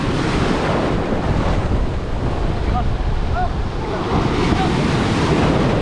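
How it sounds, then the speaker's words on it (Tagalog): Ocean waves break and wash against the shore under strong wind buffeting the microphone, making a loud, continuous roar throughout; faint voices call out in the background. "Ay, Tatsuki, may alon na."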